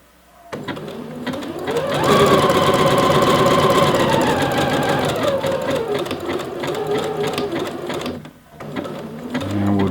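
Sewing machine stitching elastic into a waistband runs in a loud, fast, steady whir up close for several seconds, briefly slowing near the end before starting again.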